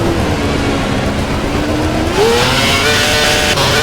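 A Formula 1 race car engine from the F1 2011 video game, a loud continuous high-revving whine that climbs in pitch as a teammate's car draws closer.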